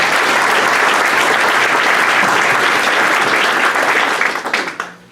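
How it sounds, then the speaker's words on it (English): An audience at a Rotary club meeting claps steadily and loudly for several seconds before the applause tapers off and fades out. "give these two gentlemen a round of applause"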